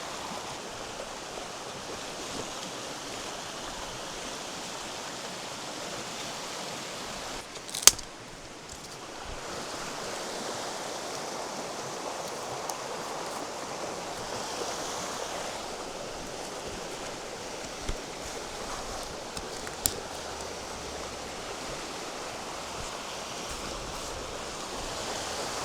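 A Montana mountain creek flows in a steady broadband rush beside a campsite, with a couple of faint knocks and no voices.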